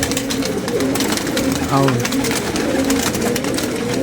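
Pigeons cooing on a rooftop among caged birds, soft repeated coos close by, with someone talking throughout.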